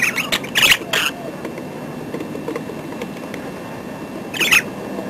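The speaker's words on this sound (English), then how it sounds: "Obviously you must hear the little birdies in the background." Small pet lovebirds chirp and squawk in the background with a few sharp bursts at the start and another near the end, heard over a low, steady outdoor hum.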